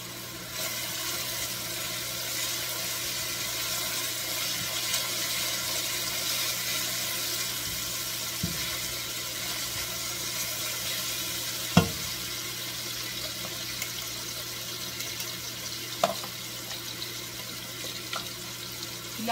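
Three eggs frying in a pan, a steady close sizzle that holds for the whole stretch, with a few sharp clicks and knocks of a utensil in the later half.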